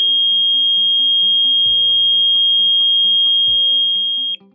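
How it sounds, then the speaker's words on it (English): A GX-3R gas detector running its alarm check on an SDM-3R docking station gives a loud, steady high-pitched buzzer tone held for about four seconds, with rapid pulsing beeps underneath, before it cuts off. "Now it's doing an alarm check."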